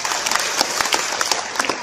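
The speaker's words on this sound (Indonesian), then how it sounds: "Tepuk tangan buat mayasari" A religious-gathering audience claps for Mayasari in a lively, close burst. Many hands strike together in an uneven, crackling patter that lasts under two seconds.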